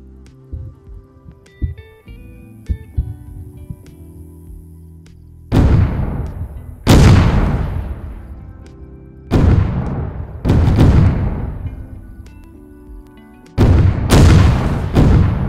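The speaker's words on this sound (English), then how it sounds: "let's see what happens when we use an artillery strike smoke signal" In DayZ, an artillery strike smoke signal starts with soft hissing and small clicks, then heavy shell impacts land as deep booming blasts with long rumbling tails, about five big explosions spaced a few seconds apart, loud and close with no talking.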